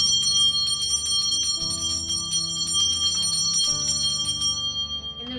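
A hand bell used for energy cleansing rings repeatedly and close, a series of bright metallic strikes with long shimmering overtones that layer and decay over about five seconds, with no talking.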